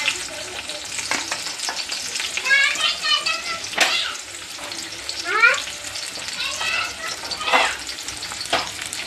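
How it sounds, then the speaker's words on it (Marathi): Chopped onion sizzling and crackling in hot oil in a kadhai while being stirred, with bursts of frying noise under someone talking and children's voices in the background. "आता मी कांदा टाकून घेते याच्यात."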